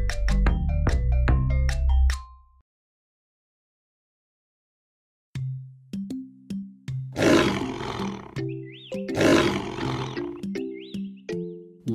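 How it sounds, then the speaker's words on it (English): Two loud, rough lion roars rise over a bright, bouncy children's animal-song melody, following a brief pause in the music. "Lion."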